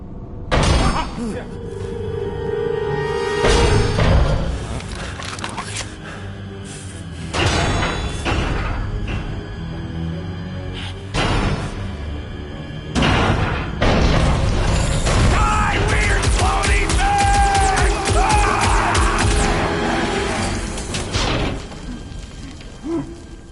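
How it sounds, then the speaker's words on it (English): A swarm of old cleaner bots in the Guardians of the Galaxy video game arrives with loud clanking, ratcheting and mechanical thuds. The bursts come in irregular waves under a busy game soundscape. "It's a swarm of old cleaner bots."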